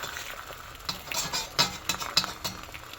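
Two peppered eggs fry in a cast iron skillet, giving a low, steady sizzle. Several light utensil taps and scrapes ring out at irregular intervals, each short and sharp.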